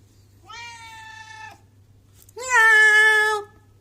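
Timmy the cat meows twice, close by: first a moderate, drawn-out meow, then after a short pause a louder, longer, more insistent one, against a quiet background.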